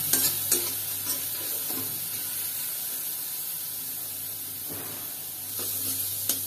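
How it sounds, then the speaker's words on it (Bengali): Spices including chilli powder sizzle in a pan with a splash of water, a soft steady hiss broken by occasional spatula scrapes, fairly quiet throughout. "এবার এই মশলাগুলোর মধ্যে অল্প একটু জল দিয়ে কষিয়ে নেব"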